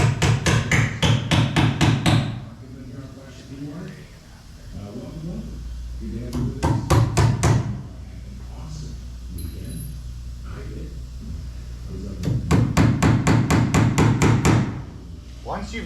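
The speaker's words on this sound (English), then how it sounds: "Don't hammer the nails all the way in because you are going to want to pull them out afterwards." Hammer blows drive nails partway into expansion strips against screwed-in staves, landing in three quick rapid bursts of about eight sharp, close strikes each, with quieter pauses and low talk between them.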